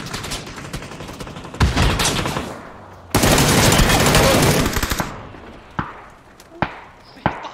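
Automatic rifle fire in a shooter video game comes in loud bursts, one long sustained burst in the middle, followed by a few sharp single shots.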